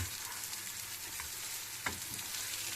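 Just-flipped hamburger patties fry quietly in a pan with a soft, continuous sizzle. A couple of faint utensil clicks break in briefly, with no voices.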